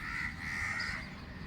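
Crows caw in a brief, harsh call over quiet outdoor background noise.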